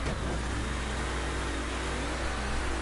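Steady car engine drone in Mafia 3, a continuous mid-revving hum holding at a constant loud level for a few seconds with no other sounds on top.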